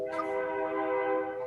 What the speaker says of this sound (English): I heard a train go by and then Jimmy left.